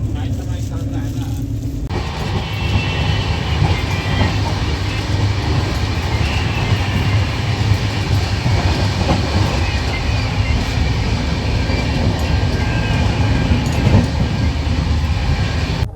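A Sampark Kranti Express passenger train pulling out of New Jalpaiguri Junction, with a steady loud rumble and rhythmic clatter of wagons heard from on board, and faint talk in the background.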